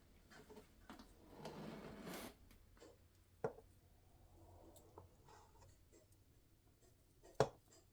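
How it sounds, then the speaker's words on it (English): A knife cutting through frosted lemon pound cake: a soft, brief scraping slice, then quiet crisp taps as the blade meets the plate, faint and close. "Now that we have the cake all frosted, it's time to cut a piece."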